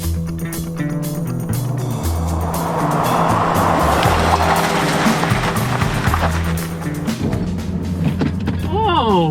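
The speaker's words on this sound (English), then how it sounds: "let's do the brake test" A Chevrolet Corvette on 195-width all-season tires brakes hard during a brake test, a loud, steady broadband road and tire roar with strong low engine hum, building mid-clip and easing toward the end, where a rising and falling squeal appears.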